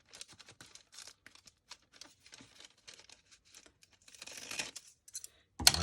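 Paper being cut down with scissors during a December Daily scrapbooking session, heard as a run of soft crisp snips and crinkles, closer and busier toward the end, with no talking.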